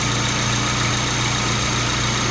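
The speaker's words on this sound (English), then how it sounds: "First, turn on the engine" A 2014 Hyundai Accent's engine idles steadily, a continuous low hum with faint vibration running without break and no voices.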